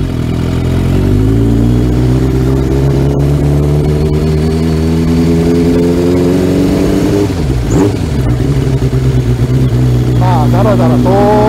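A Kawasaki GPZ900R motorcycle engine idles steadily and then revs up and down, loud and close, with a voice talking near the end.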